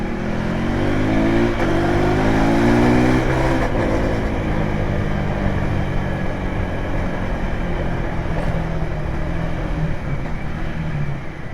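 A KTM 390 Adventure motorcycle engine runs loud and close, its pitch climbing in a rev over the first few seconds before settling into a steady, even drone at higher RPM.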